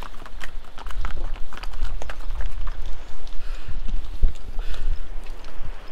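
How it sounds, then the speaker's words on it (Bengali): Irregular clopping of horses' hooves on a hard mountain trekking path, several animals moving at once, with outdoor rumble and background noise. "আমার পিছনে যে ঘোড়াগুলো দেখতে পাচ্ছেন"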